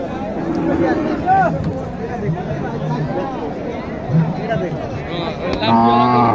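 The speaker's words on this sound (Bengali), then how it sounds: "এখানে দেখেন অসংখ্য গরু আছে অসংখ্য গরু" Cattle at a traditional rural cattle market moo repeatedly among crowd chatter, with people talking close by and lowing calls rising over the babble.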